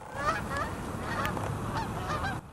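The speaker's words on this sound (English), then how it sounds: "Geese." Several geese honk repeatedly in a noisy chorus over a steady background rumble.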